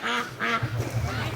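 A small Muscovy duck quacks near a farm barn, a few soft, breathy calls in a loose series, close and fairly loud with light outdoor background.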